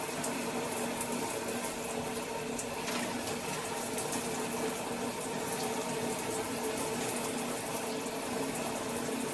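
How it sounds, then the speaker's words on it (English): Warm tap water runs steadily while rinsing apple cider vinegar out of starter locs, a continuous close splashing rush with no pauses and no talking. "And firstly, what I do is I rinse off the ACV first"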